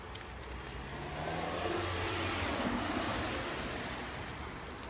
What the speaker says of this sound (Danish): Der kommer en bil